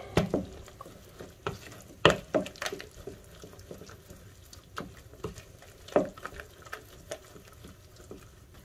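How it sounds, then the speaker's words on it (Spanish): Tomato and cheese breakfast mixture stirred in a bowl, with irregular wet, soft clicking and scraping strokes at close range, some sharper knocks standing out, and no talking. "Y simplemente mezclamos muy bien todo esto."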